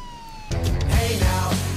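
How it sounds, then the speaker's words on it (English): A police car siren in the video game Miscreated starts abruptly after a brief quiet moment, then wails loudly and continuously up close for the rest of the clip. "We'll keep the sirens on so he can fucking hear us."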